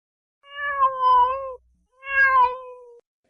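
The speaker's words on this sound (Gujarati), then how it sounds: "બિલાડી બોલે" A cat meows twice, each call a drawn-out, close and clear mew with a short pause between them and no other sound around it.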